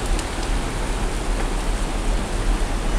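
Rushing water of the Terebka river pouring past a collapsed bridge, a steady, loud broadband roar that holds constant throughout with no talk.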